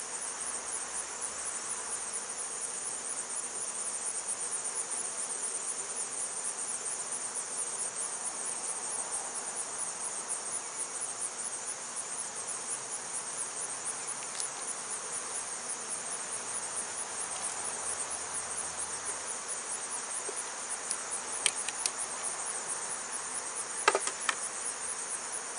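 Honeybees buzz as a steady, dense hum at an open hive during an inspection, with more bees crowding one side; the drone holds evenly throughout, with a few sharper clicks and knocks near the end.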